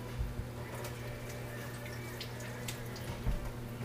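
Hands being washed under a running kitchen tap, a faint steady stream of water with occasional drips and splashes, fairly quiet and without talk.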